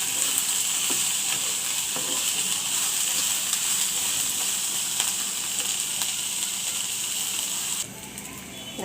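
Onions and chilies frying in a pan, a loud continuous crackling sizzle with scattered stirring clicks, held close and steady before abruptly softening near the end.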